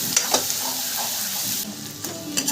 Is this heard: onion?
yes